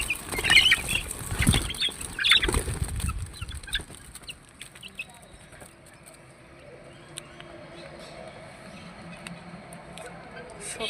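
Chickens, including young chicks, cluck and squawk loudly at first after being let out for their morning feed, with wings flapping, then settle into quieter scattered clucks as a person talks nearby.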